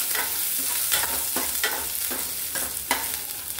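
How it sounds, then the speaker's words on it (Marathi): Onion frying in a pan over a gas flame for a traditional jackfruit bhaji, with a steady close sizzle broken by regular scraping stirs about every half second. No one speaks. "कांदा छान ब्राऊन होईपर्यंत आपण भाजून घेणार आहोत"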